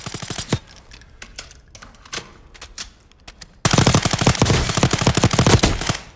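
An M13C rifle fires in Call of Duty Warzone: a few scattered single shots first, then a long rapid automatic burst, loud and close, with no talking.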